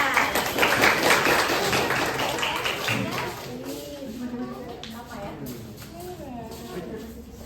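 Students in a university classroom applaud a group being introduced for a civics project, a loud burst of clapping for about three seconds that fades as voices take over.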